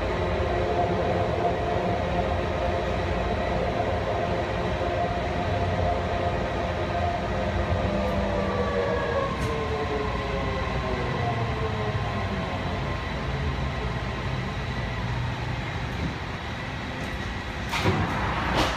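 A BART rapid transit car rolls into Pittsburg/Bay Point station with a steady loud rumble of wheels on rail and rising and falling tonal whines as it slows, and a brief clatter near the end.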